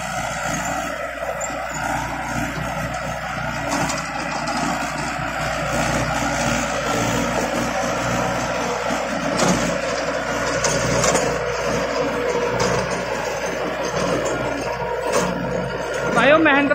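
A Mahindra Arjun 605 tractor with 52 HP PTO power running a 9-foot rotavator, a steady engine drone with churning mechanical noise throughout, under someone talking.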